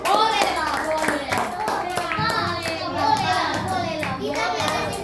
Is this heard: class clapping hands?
yes